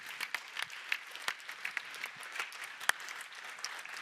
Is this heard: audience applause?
yes